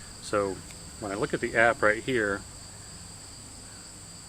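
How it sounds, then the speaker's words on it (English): Continuous high cricket chirping drones outdoors under trees, faint and steady in the background beneath someone talking close by. "Basically, it's like a crickets, like a continuous droning. So you probably can hear that in the background."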